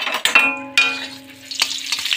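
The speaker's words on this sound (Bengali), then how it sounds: "এই দেখো আমার বেগুন ভাজা হচ্ছে" Eggplant slices fry in a pan on a gas stove, a soft sizzle under metallic scrapes and clinks from stirring, close by, with a steady tonal hum in the background.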